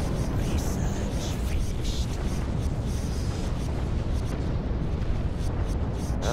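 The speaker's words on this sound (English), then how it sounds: "The explosions are real." Continuous rumbling explosions and booms from a Stargate-themed space strategy game featuring Goa'uld forces, a dense steady roar that fills the whole stretch with no pauses.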